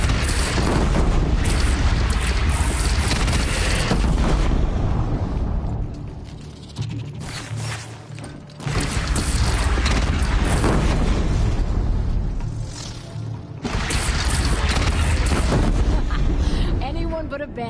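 A bandit clan's cannon in Horizon Zero Dawn fires heavy, rumbling booms, several broadband blasts separated by brief quieter gaps, loud and dense with crackling debris under the din.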